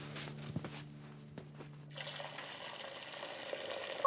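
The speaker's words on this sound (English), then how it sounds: "I'll fill up your water bowl" Water poured into a dog's water bowl, a soft steady trickling and splashing that starts partway through after a few quiet clinks, close and faint.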